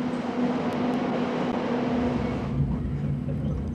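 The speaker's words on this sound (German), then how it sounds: "Personenzug vom Schacht fährt ab nach 459." Underground mine personnel train riding from the shaft through a tunnel, a steady loud rumble and rattle of wheels on rails that continues throughout, with a slight shift in tone partway through and no talk.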